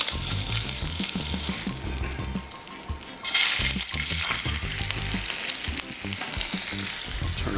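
Fish frying in a pan sizzles loudly and steadily up close, with a brief louder hiss partway through and faint scraping under it.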